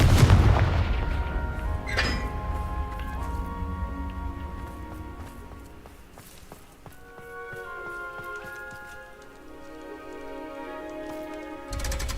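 A Confringo explosion spell goes off in the Hogwarts Legacy video game: a loud booming blast right at the start, then a fading rumble and game effects and music for the rest, with no talk.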